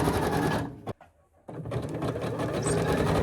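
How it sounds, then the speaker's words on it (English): A sewing machine fitted with a jersey needle whirs in fast zigzag-stitching bursts, briefly stopping for a moment before running again, close and steady, with no voices. "I've got a jersey needle in my sewing machine."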